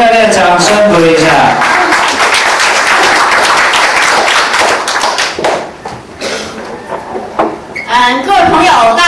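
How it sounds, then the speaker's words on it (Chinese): Lecture-hall audience at a speaker training seminar clapping loudly and steadily, dense applause that thins briefly before swelling again, with a voice speaking over it at the start and end. "热烈掌声鼓励一下"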